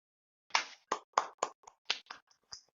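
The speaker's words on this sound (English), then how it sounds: "A round of great applause." About nine separate hand claps ring out one after another, with short pauses between them. They are faint and sparse, like a small group or a single person clapping in a quiet room.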